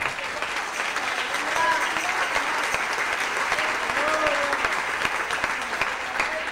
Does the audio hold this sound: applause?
yes